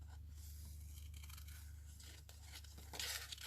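Scissors cutting roughly around a paper lavender image for a collage, with soft snipping and paper rustle over a low steady hum.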